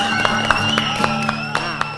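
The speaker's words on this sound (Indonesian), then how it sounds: "Kita berikan tepuk tangan buat Tuhan Yesus." A church congregation at an Ascension Day service claps in steady rhythmic applause, with a sharp clap roughly every quarter second over a sustained tonal backdrop of music or voices.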